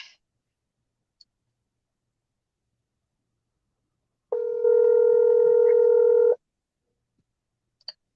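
A telephone dial tone sounds steadily for about two seconds while a call is placed to a radio show caller, with faint clicks before and after in otherwise quiet surroundings.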